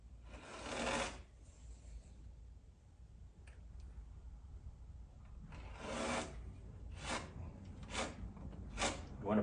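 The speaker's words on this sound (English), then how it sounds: "I like to apply it to the card, go up into the corner, and then smear it across the grain." Spot putty smeared with a card across the grain of a 3D-printed model kit part: several separate raspy scraping strokes, close and fairly loud, with one long drag followed by a run of shorter quick swipes.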